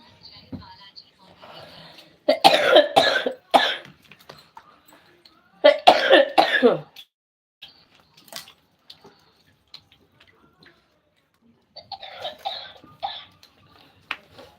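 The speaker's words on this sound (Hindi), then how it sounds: "खांसी बहुत दुखी कर दी" Several bursts of harsh coughing in separate fits, close to the microphone, with quiet gaps and faint sounds between them.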